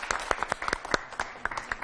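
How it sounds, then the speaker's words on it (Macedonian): Applause from a school audience for dancing girls, a short burst of scattered hand claps at moderate distance, irregular and sparse. "Аплауз за нив."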